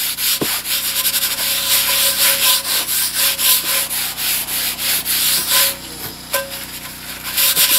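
Rusty cast iron pan being scrubbed, a steady rapid rasping rub with rhythmic back-and-forth strokes, close and fairly loud with no talking.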